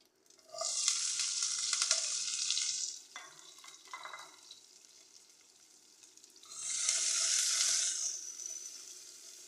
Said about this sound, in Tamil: வாங்க நம்ம தாளிக்கலாம். நான் அதுக்கு கொஞ்சம் தேங்காய் எண்ணெய் 2 ஸ்பூன் போட்டுக்கிறேன்.